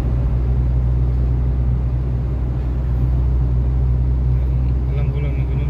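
A car drives along a road in Riyadh, heard from inside as a loud, steady low engine and road rumble that holds constant throughout.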